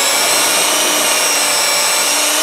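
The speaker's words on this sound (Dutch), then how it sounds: "Ik maak een begingaatje van een kleinere boor als" Small wood drill bit boring a pilot hole, a steady, loud, continuous high-pitched whirring drone held close and alone with no pauses.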